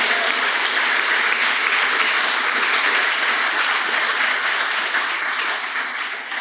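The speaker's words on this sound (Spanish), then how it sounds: "Denle un aplauso al Señor entonces." A church congregation applauds in praise of God during a Sunday service, a dense, loud wash of many hands clapping steadily throughout, easing slightly toward the end.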